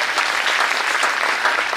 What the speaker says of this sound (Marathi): आपणा सर्वांच्या वतीने महाराजांचे एकदा टाळ्या वाजवून स्वागत करूया